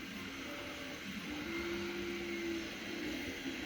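A Pilot car window motor spins on a bench test setup, a steady faint whirring hum with a wavering tone and no voices.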